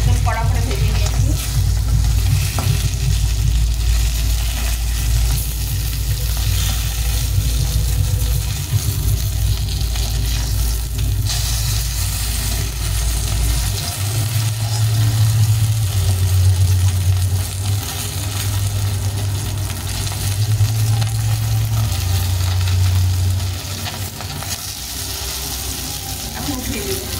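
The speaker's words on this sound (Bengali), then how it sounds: "লাল লাল করে মাছগুলো ভেজে দেবো। মাছগুলো ভাজা হয়ে গেছে, মাছগুলো একদম কড়া করে ভেজে নিয়েছি।" Fish fries in hot oil in a pan, turned until deep golden and crisp, with a loud continuous sizzle and crackle close up, steady for the whole stretch and easing off slightly near the end.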